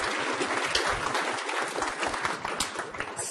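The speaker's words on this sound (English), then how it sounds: "Give a nice round of applause." An audience at a hypnosis training session gives a loud, dense round of applause, many hands clapping continuously and close for several seconds with no talk over it.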